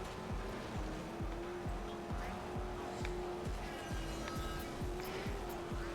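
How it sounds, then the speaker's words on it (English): Ozutsu Ronin race car in the MotorStorm video game, a steady loud engine drone with rhythmic repeating thumps and tire noise throughout, no talking. "Somebody chose the Ozutsu Ronin. It's one of my favorite cars in the game."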